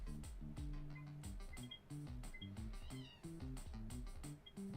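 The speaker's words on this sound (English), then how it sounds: "The cat makes noise." A video game cat on Rainbow Island in Ranching Slimes gives a quick run of soft, repeated meows with clicky game sounds in between, faint and close.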